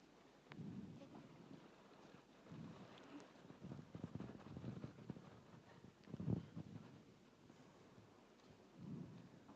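Staged storm sound effect for a school drama performance: rolling thunder rumbles rise and fall in several waves over a steady wash of rain, fairly faint overall with one sharper crack near the middle.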